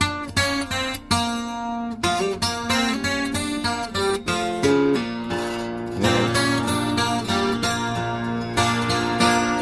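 Acoustic guitar picking the intro to a blues song in open tuning, a busy run of bright plucked notes and bass strings that climbs and resolves, played solo and close without voices.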